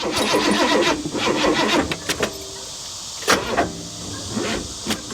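A fire-damaged 1955 Chevy Bel Air engine with a new carburetor cranks in choppy bursts, then catches and runs unevenly with timing way off, sputtering and revving close by with no talking.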